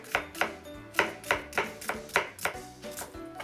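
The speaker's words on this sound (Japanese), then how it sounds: "まず玉ねぎみじん。" A knife finely mincing onion on a cutting board for a tuna and potato salad, close and crisp, with about a dozen sharp, evenly spaced chops and no voices.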